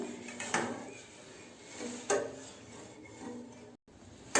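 Sondesh mixture stirred in a pan with a utensil, producing several scraping, knocking strokes spaced irregularly at close range, with soft rubbing in between and no voices.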